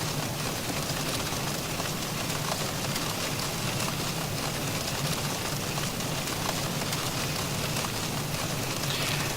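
Steady broadband rain hiss from the rain effect of a Boeing 737 flight simulator game, continuous and even throughout, with a faint engine hum underneath and no talking.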